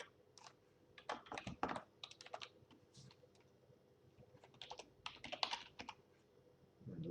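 Password being typed on a computer keyboard, close and quiet: bursts of rapid key clicks with short pauses between them.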